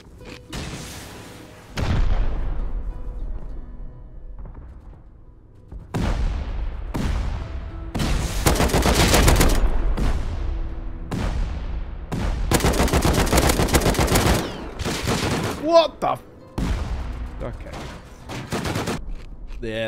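Turrets in the Rust video game are blown apart by loud bursts of rapid gunfire and booming explosions, arriving in dense volleys separated by short lulls.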